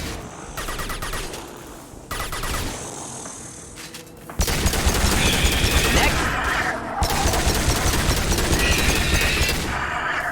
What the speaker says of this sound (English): Gunfire. There's a battle going on.